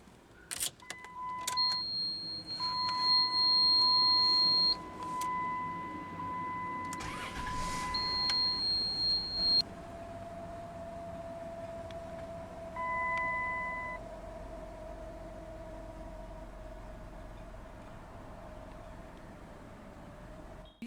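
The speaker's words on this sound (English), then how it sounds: "let's go ahead and start the engine." 2004 Chrysler Town & Country LX minivan converted into a wheelchair van, heard from the driver's seat: dashboard chimes and beeps, then the engine cranks and catches, settling into a quiet, steady idle.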